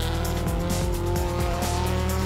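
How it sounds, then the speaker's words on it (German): Race car accelerating hard through the corners of the Hockenheim circuit, engine revs climbing and dropping in a rapid series of gear-change sweeps, loud and continuous with some tire noise. "Schnell wieder Geschwindigkeit aufnehmen, bis in den fünften Gang beschleunigen"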